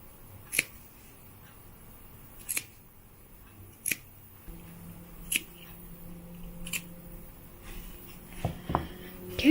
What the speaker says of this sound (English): We're just going to cut that all the way around.